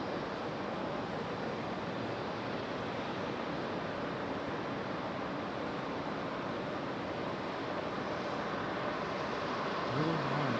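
An aircraft taking off at Raleigh Durham airport in stormy weather, heard as a loud, sustained broadband jet roar that holds steady throughout, with no speech.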